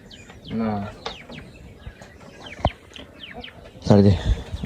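Farmyard chickens clucking in short bursts, fairly close, with a louder squawking run near the end and faint voices in the background.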